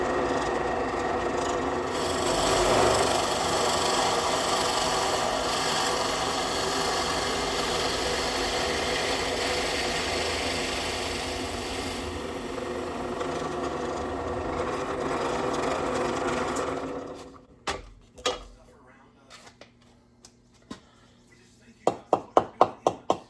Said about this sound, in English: And I'm going to drill this larger hole.